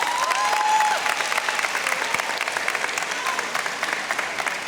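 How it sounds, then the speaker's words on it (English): Steady crowd applause at a 2023 high school graduation ceremony in Indianapolis, honoring the graduates' parents; dense clapping with a faint whistle or cheer early on. "Then let's get a big round of applause for your parents."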